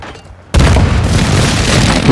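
After a short quiet pause, a frag grenade detonates in a sudden, loud close-range boom, and a long rumbling roar trails on to the end.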